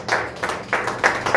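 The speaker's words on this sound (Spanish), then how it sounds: "Entonces denle un aplauso más fuerte al Señor" A church congregation claps at a marriage gathering, a few loose rhythmic claps in a short burst that sound close and moderately loud.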